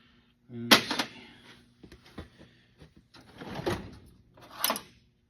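A metal tool drawer holding metric sockets slides open, with a sharp clack, then scattered light rattles and clinks of tools being shifted, plus a couple of louder scraping bursts. The sounds are close by and have nothing else under them.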